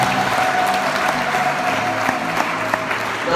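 A church congregation claps for Jesus, a brief burst of dense, steady applause with a few sharper claps and no speech.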